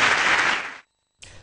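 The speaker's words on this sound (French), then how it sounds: "Merci de lui applaudir" Applause from a ceremony audience, broad and loud for almost a second, cutting off abruptly into silence before a brief burst of clapping returns.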